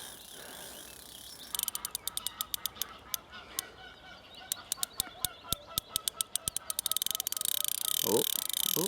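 Geese honk in a rapid, repeated series at a lakeside carp fishing spot, the loud calls coming in bursts over steady outdoor background noise.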